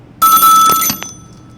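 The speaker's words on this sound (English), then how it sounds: "Telephone is ringing." A telephone bell rings once in a steady, bright burst of about a second, near and loud, in a live electronics show studio, then cuts off into quiet.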